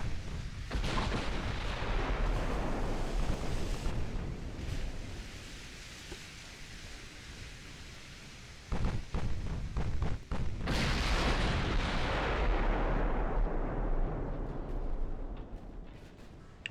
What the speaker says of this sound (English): Start getting my secondaries firing at some smaller targets.